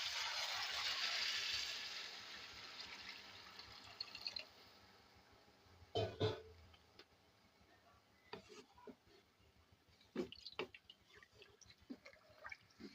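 Four cups of water poured from a vessel into hot rice in a pot for prawn biryani, a steady splashing pour at the start easing off, followed by scattered clinks and knocks of utensils.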